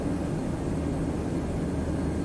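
A Turkish Airlines Boeing 737-800 in a flight simulator gives a steady, dense engine roar with a low rumble, constant and loud with no voices over it.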